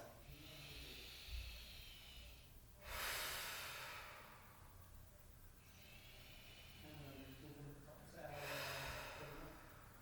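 Deep slow breathing during a yoga hip-lift hold, long breathy inhales and exhales swelling and fading close to the microphone, about three full breath cycles.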